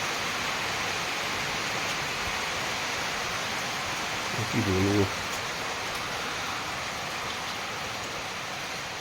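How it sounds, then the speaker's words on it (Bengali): Heavy rain pours steadily in a village in Meghalaya, a dense, even hiss filling the whole stretch, with a brief burst of nearby speech in the middle. "বৃষ্টি পড়েই যাচ্ছে অজোরে"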